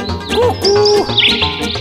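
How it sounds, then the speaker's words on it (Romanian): A cuckoo calls outdoors with soft hooting whistled notes, joined by brighter chirps and tweets from other birds, fairly close and clear, with no talking. "stai jos să asculți cum cântă cucu, cucu, cucu."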